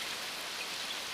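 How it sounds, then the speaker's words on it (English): Steady rain falling in a cartoon scene, a dense, even hiss of drops at moderate level with no voices, lasting about a second. "It's raining!"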